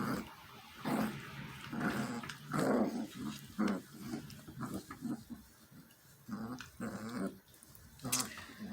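Young puppies from a litter make low growls and whiny grunting noises in short irregular bursts, close and soft, with no talking.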